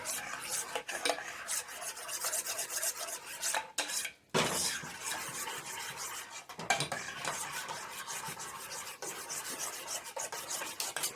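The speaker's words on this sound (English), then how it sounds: "I'm just stirring." Bacon-wrapped chicken and vegetable bundles are stirred in a pan, giving steady scraping, rubbing and clinking of a utensil against the cookware with a faint sizzle underneath, continuous and close with a brief pause midway.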